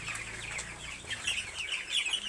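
Eighteen-day-old broiler chickens in a poultry shed cluck and cheep continuously in a dense overlapping chorus, with a faint wing flap among them.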